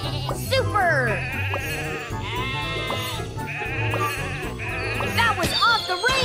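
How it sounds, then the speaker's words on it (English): Cartoonish sheep bleat again and again in a toy-train video game, wavering calls overlapping with light chimes and bouncy game music. "Sheep have wandered onto the tracks."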